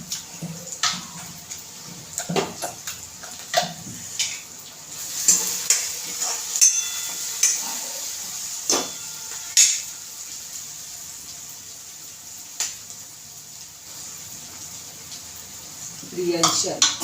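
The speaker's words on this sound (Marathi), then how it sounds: "टोमॅटो वगैरे सगळं असं खूप छान मॅश झालं पाहिजे" Pav bhaji vegetables and tomatoes being mashed in a pan, with repeated close thuds, scrapes and a soft sizzle in an irregular rhythm, and someone speaking in between.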